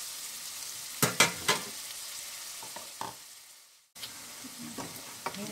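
Frying and stirring in a pan to soften an ingredient before tomatoes go in for a macaroni dish, with a steady close sizzle broken by several sharp spoon scrapes and a brief cut-out midway.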